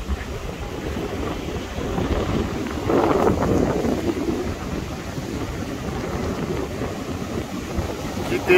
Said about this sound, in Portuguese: o vento tá friozinho